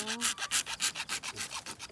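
A hand saw cuts through plastic water pipe for a farm sprinkler system in quick, even back-and-forth strokes, about a dozen rasping passes, close and clear with no talk.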